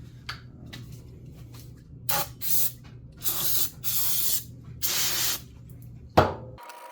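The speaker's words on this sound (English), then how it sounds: "I use Scotch-Brite and some brake cleaner" Brake cleaner sprayed over a Suzuki SV650 engine case in several close, hissing bursts of varying length, with faint handling noise and a low background hum between them.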